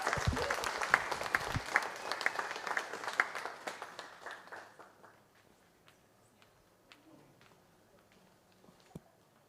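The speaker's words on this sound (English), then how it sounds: "Can we get one more round of applause for him," Audience applause at a symposium, a burst of clapping that starts fairly strong and gradually fades away over several seconds, leaving near silence with a few scattered claps.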